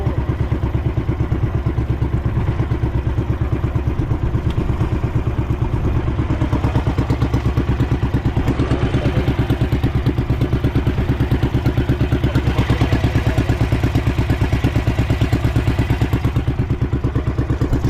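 A ship's engine runs steadily, a loud, continuous mechanical drone with a fast regular pulse that holds throughout, with no talking.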